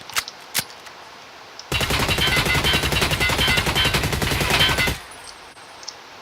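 Suppressed automatic gunfire in SPT Tarkov, a sustained rapid burst of closely spaced muffled shots lasting a few seconds, loud and close, preceded and followed by a couple of sharp isolated clicks in a quiet room.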